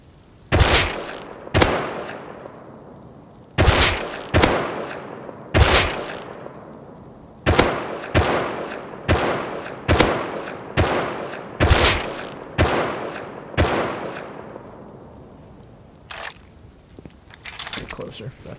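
Single video-game gunshots in Rust, spaced a second or so apart with a short gap, each a sharp loud crack with a fading tail.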